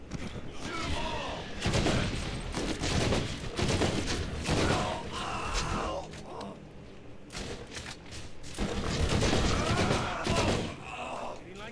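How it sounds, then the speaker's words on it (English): Dense gunfire from the video game Borderlands, rapid overlapping shots, thuds and bursts blasting almost nonstop at high volume, with a brief lull in the middle and a voice mixed into the din. "Shoot 'em all!"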